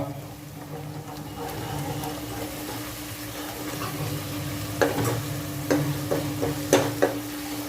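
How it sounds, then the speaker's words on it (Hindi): Ginger and garlic roasting in a pan on high heat make a steady sizzle and crackle, with a few sharper clinks of stirring near the end and no talk. "और फिर आंच तेज करके इसको भूंजे। अदरक का कच्चापन खत्म हो जाना, अदरक और लहसुन का।"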